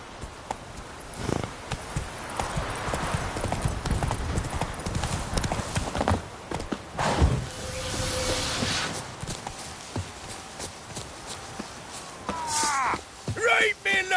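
Horse hooves clip-clop steadily at a gallop in The Witcher 3, a continuous rhythmic patter close by with some speech over it and a brief whinny-like tonal sound near the end.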